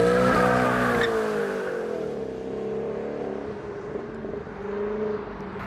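A 1000 hp bi-turbo Ford Mustang driving hard, its engine note climbing and shifting in loud sweeping tones, with tire squeal and a fading roar as the car pulls away.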